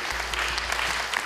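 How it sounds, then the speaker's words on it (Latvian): Audience applause for fashion artists during a live reality show event, a dense steady patter of many hands clapping close and loud throughout, without a break. "Lūdzu veltiet aplausus mūsu modes māksliniekiem un it īpaši Artim Štamgūtam."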